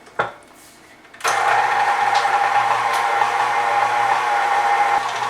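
Electric mixer running on low speed through vanilla cupcake batter, a steady close whirring hum that starts abruptly after a brief knock and continues evenly with no talking.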